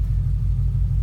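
Low, steady idle of a Ford Mustang GT with a Coyote 5.0 V8 and a rebuilt short block, a close, continuous rumble with a faint tick; a brief snippet with no voices.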